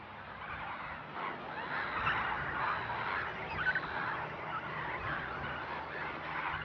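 Flamingos and storks gather at a wetland lake in the Algerian desert, a steady chorus of honking, gabbling bird calls from a flock at middle distance, continuous and fairly even with no talk.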